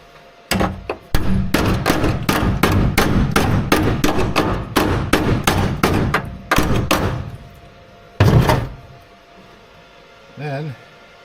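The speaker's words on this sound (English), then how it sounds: "This thing here, just got to pound that down a bit with a hammer" A hammer pounds the welded metal rocker panel of a 1989 Dodge W100 pickup in a rapid series of loud, ringing blows, then pauses before a final strike, with brief talk at the end.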